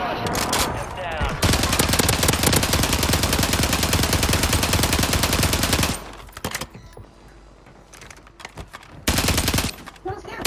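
Rapid SMG gunfire in a first-person shooter video game, one long sustained burst followed by a shorter burst after a pause, loud and close.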